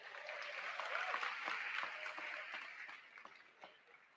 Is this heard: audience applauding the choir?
yes